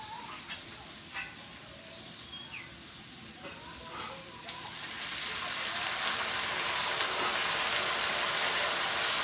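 Water is poured into dal frying in a pan, and the quiet crackle of frying swells into a loud, steady sizzling hiss that continues to the end.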